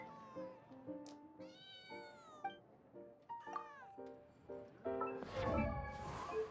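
A cat in the video game Genshin Impact meows repeatedly in short, tonal calls, about a dozen in a row, with a louder rustling burst near the end.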